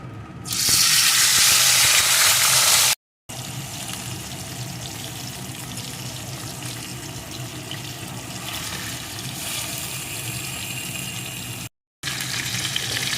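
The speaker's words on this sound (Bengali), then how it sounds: "এবার একে একে মাছগুলোকে দিয়ে ভেজে নেব" Fish pieces go one by one into hot mustard oil in a kadai. A sharp, loud burst of sizzling rises as they hit the oil, then settles into a steady, close frying crackle that runs on with brief breaks and no voices.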